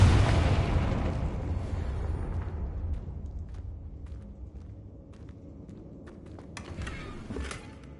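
A Confringo blasting curse explodes in Hogwarts Legacy, opening with a loud booming burst that decays into a long rumbling tail, followed later by a few faint crackles and thuds.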